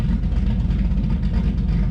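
A Chevrolet Z28 with a big-cam engine idles loud and close, rumbling steadily with a choppy, uneven lope over a short stretch.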